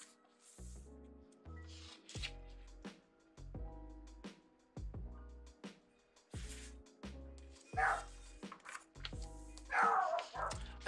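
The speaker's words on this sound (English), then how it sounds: "That's my dog barking." A pet dog barks indoors while a hurricane rages outside, giving sharp, repeated barks in an uneven rhythm at moderate distance, heard alongside page-flipping and rustling from a vintage Christmas book.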